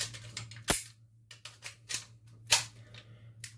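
Glock 18 having its firing pin dropped in a dry-fire, a sharp metallic snap followed by several lighter clicks and handling clatter, close and alone.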